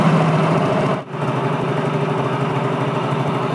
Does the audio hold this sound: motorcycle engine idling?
yes